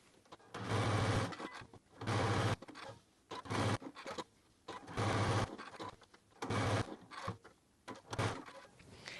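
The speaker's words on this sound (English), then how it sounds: "head back to the sewing machine" A sewing machine quilts a crosshatch pattern into a bag panel, running in about six steady bursts of stitching with brief pauses between each pass.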